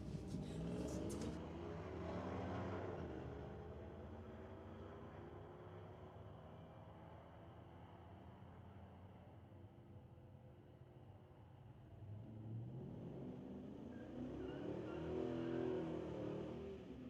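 Black Chevy pickup truck pulling away from the starting line at an NHRA Northwest drag race, the engine revving hard, fading into the distance, then rising again as it roars along the track.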